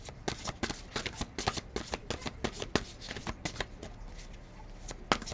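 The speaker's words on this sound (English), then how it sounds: "I shuffle so hard, sometimes it blows my little tea lights out." Oracle cards are shuffled rapidly and repeatedly, a quick papery riffling patter with brief pauses, close and fairly quiet.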